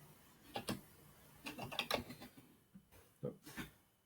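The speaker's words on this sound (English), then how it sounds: "Oh, Bernice is typing." Quiet typing on a computer keyboard, scattered bursts of soft clicking keystrokes in short irregular clusters, close with no talking.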